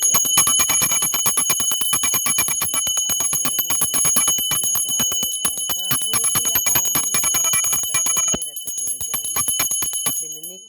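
A small bell rings rapidly and continuously in quick repeated strikes during a devotional food offering, loud and close, pausing briefly near the end before ringing again.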